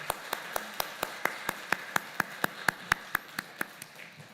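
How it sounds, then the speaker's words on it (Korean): A church congregation at a Lenten Sunday youth service claps in a steady, evenly spaced rhythm, about eighteen sharp claps over four seconds, moderately close and with no talk over it. "우리 귀한 말씀 전해주신 우리 지용군 대표님께 한번 뜨겁게 한번 박수해 주시고 고맙겠습니다."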